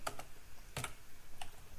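Code being typed on a computer keyboard: a few sparse, close key clicks with short pauses between them, alone without speech.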